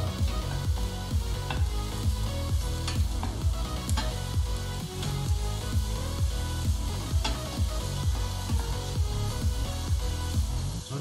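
Onions stirred in hot oil in a pan for tomato sauce, a dense continuous sizzle with rhythmic scraping strokes of the spoon, close and loud, no voices.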